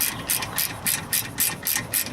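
Ratchet loosening a brake caliper slider bolt on a BMW E36 3 Series, with about eight steady, loud clicking pulls in a quick even rhythm, close up and without speech.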